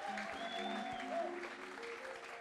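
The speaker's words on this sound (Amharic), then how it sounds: "እሳት አጨብጭቡ ለጌታ ክብር" A church congregation claps for the Lord during a prophetic service, a faint patter of applause behind sustained musical tones and a voice.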